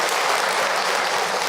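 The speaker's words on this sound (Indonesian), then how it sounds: "Tepuk tangan untuk orang tua." An audience applauding in honor of parents at a religious gathering, dense even clapping from many hands filling the whole moment, close and sustained.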